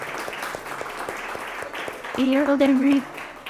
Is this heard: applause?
yes